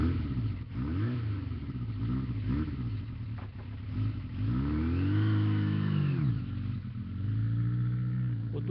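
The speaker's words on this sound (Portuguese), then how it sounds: "O Duque Lúcio pegou a sua moto e partiu para a igreja no Gueto dos Escravos" A motorcycle engine revs in several rising pulls, then accelerates away with a long swelling whine, fairly close and steady under a faint background.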